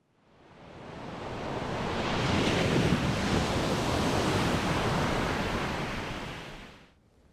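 Winter ocean surf on the Rhode Island coast rises into a loud, steady wash as a wave breaks and splashes over rocks, then fades away.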